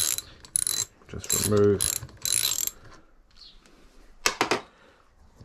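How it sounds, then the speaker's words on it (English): Socket ratchet working an 11mm nut off a damper shaft on a 2022 DVO Topaz shock, a few bursts of quick ratcheting clicks with pauses between, close and fairly loud, with a brief spoken phrase at the end. "Here we have an 11mm nut that holds the piston assembly onto the damper shaft. So we'll just grab our socket."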